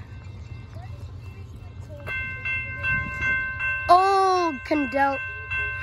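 A BNSF ES44C4 diesel locomotive passes a crossing: a steady low rumble builds, then a loud tonal blast resembling a horn sounds near the end, with a brief spoken exclamation at the start.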